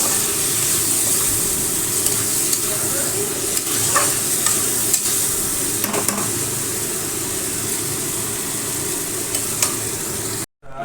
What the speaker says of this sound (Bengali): নুন দিয়ে মশলাটা কষে নিচ্ছি